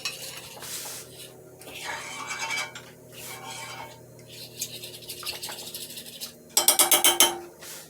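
Mushrooms, garlic and onion stirred in a cast iron skillet with a utensil, making repeated scraping and clinking strokes against the pan over a light sizzle, ending in a quick run of loud metallic scrapes.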